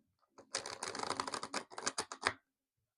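Close, crisp riffling and flicking of tarot cards in quick bursts, a rapid patter lasting about two seconds, then quiet.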